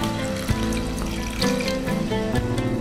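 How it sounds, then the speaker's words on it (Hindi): Water poured into a pan of potato curry with tomatoes and powdered spices, a short sizzling, bubbling splash with a few clinks, close and moderately loud, no talking. "थोड़ा पानी डालेंगे,"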